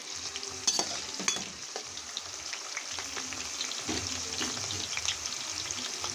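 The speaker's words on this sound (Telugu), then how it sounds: "ఆయిల్ హీట్ అయిన తర్వాత పచ్చిమిరపకాయలు, కట్ చేసి పెట్టుకున్న పచ్చిమిరపకాయలు" Chopped green chillies sizzle and fry in hot oil for a fish curry, with a spoon stirring and scraping through them in a steady crackling hiss and occasional clinks of metal.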